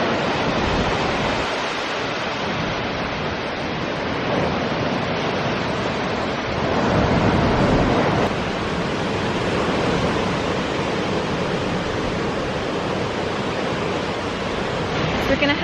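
Surf breaking on the beach near Tintagel on the Cornish coast, a steady broadband wash of waves with swells rising and falling, continuous and fairly loud with some wind over the microphone.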